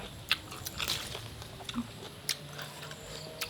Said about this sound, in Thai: มันเป็นกรุบกรุบกรุบกรุบ